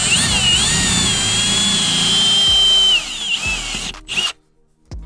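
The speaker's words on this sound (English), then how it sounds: "We're gonna drill a pilot hole, see how deep this is" A power drill whines steadily at high speed for about three seconds, then slows and stutters in short bursts before cutting off, close by.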